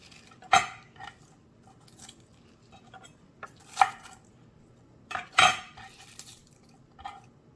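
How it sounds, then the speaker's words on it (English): A knife cuts fresh spinach into bite-size pieces, making a few sharp, separate chops and knocks on the board at uneven intervals, close by with quiet pauses between strokes and no voices. "I'm gonna just cut the spinach, same thing, into bite size."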